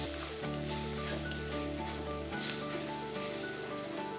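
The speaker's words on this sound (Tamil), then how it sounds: "தக்காளி நல்லா வதங்குற வரைக்கும் வதக்குங்க" Tomatoes sautéing in a pan with salt for a banana flower and brinjal thokku, giving a steady soft sizzle with a low humming tone underneath, no talk.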